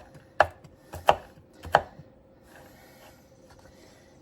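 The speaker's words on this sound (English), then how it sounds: "Chop them up as fine as you like." Three firm knife chops on a cutting board as ingredients are chopped finely, evenly spaced and close, each a sharp knock followed by quiet.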